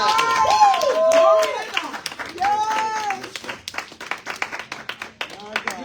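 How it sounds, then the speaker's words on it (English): Scattered audience clapping breaks out at a ceremony honoring a woman, irregular claps building after an amplified voice speaks and continuing in sparse bursts. "Another applause. Round of applause."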